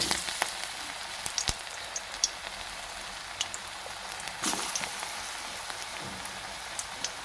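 Vegetarian drumstick flower fritters frying in plenty of hot oil give a steady, even crackle and sizzle with scattered sharper pops throughout.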